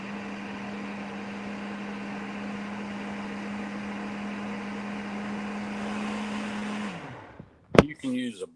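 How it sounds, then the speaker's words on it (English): A kitchen blender whirs steadily as it purées a pumpkin dessert mixture, a constant motor drone that winds down and stops near the end, followed by a brief clatter and a short voice. "I'm just going to blend it"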